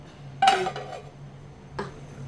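A metal lid clanks onto a pot of simmering sardine curry, followed by a second lighter clink a moment later, against a quiet kitchen background.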